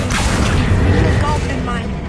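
A Confringo blasting spell cast in the Hogwarts Legacy video game bursts out as a loud, dense, rumbling explosion that holds steady for about two seconds.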